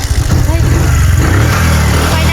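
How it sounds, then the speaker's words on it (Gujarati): Motorcycle engine started and running, a close, loud low rumble and throb that settles into a steady idle, with people talking over it. "શિલ્પા બેસી જાય બાઇક પર બાઇક ચાલુ કરી"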